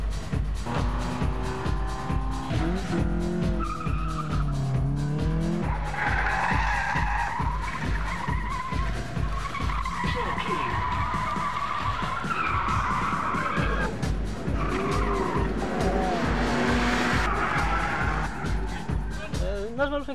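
A race car skids and drives flat out during a race, its engine droning continuously with repeated tire squeals rising and falling, while a voice talks over the noise throughout.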